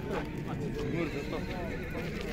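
At the Jumgal horse market, a horse lets out a whinny amid background chatter and the clip-clop of hooves, the crowd noise steady throughout.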